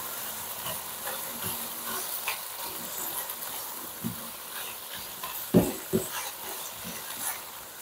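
Liver spread being stirred and mashed into pork igado in a pan, a soft sizzle under scraping stirring strokes, with a few sharper knocks of the utensil near the end, and no one speaking.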